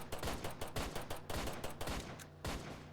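Rapid, loud gunshots fired in quick succession in the Roblox game Police Tycoon, a dense burst of automatic fire with a short pause before a final volley.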